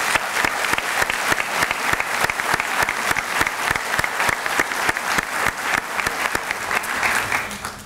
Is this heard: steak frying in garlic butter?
no